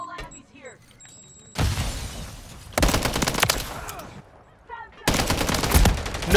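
Video game gunfire comes in loud, close bursts of rapid automatic shots with pauses between, some sharp shattering cracks mixed in, and voices talking during the quieter stretches.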